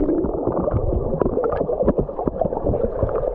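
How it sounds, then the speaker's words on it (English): Bubbling and gurgling underwater during snorkeling, a steady wash of low burbling with scattered pops and bursts, close and continuous with no talk. "You know when we do the snorkeling clips and you get the bubbling away underwater?"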